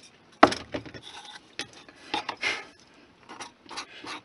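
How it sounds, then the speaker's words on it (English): A hand file rasping along the cut edge of a rooftop storage tank lid, a series of close, uneven scraping strokes with brief pauses between them. "I'm just going to finish it off with a file. Just keep going round until I'm happy that it's even all the way."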